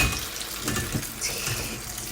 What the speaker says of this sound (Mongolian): хөөс гарахгүй болтол ингэж шүүгээд угаагаад цэвэрлэдэг байгаа шүү